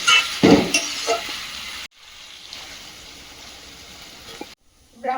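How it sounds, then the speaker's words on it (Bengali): Potatoes fry in a pan with a loud, crackling sizzle at first that settles into a quieter, even hiss, then breaks off and briefly returns at the end. "আলুটা প্রথমে ভেজে নেব"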